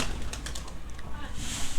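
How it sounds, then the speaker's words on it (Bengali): Low, muffled cooing of native Bangladeshi pigeons close by at their loft in the morning, mixed with bursts of fluttering wings as they are released and a rustly background hiss. "এই যে সকাল সকাল কিন্তু কবুতর ছেড়ে দেওয়া হলো"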